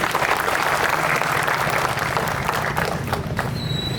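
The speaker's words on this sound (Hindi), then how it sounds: "इसके लिए ताली बजा दीजिए।" Loud, close applause from a gathering of young people at a village discussion in Tongpal, Sukma district, a continuous dense clapping that holds steady, then thins slightly near the end as a faint high tone appears.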